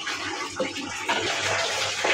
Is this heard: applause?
no